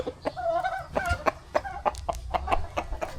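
Chickens clucking and squawking nearby in quick, irregular bursts, several birds calling over one another with no talking.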